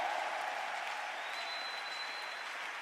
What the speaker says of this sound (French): Est-ce qu'on peut encore acclamer?